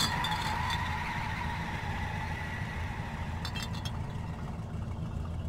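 In the My Summer Car video game, a car at 100 km/h slides under a yanked handbrake: a steady engine roar with a tire screech sliding down in pitch, fading as the car slows.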